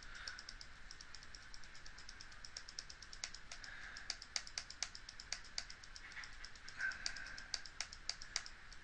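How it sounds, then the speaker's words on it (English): Faint, rapid computer mouse clicks repeat irregularly at close range, pressed over and over, against a quiet hiss. "Hear me clicking? That's me clicking multiple times."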